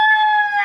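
A chicken held in a handler's grip lets out a single short, loud, tonal squawk right up close, steady in pitch for well under a second.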